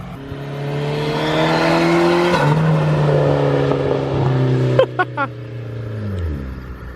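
PT Cruiser GT fitted with a 4-inch exhaust tip revving up and holding a loud engine drone, then the revs falling back, with a few sharp knocks near the end.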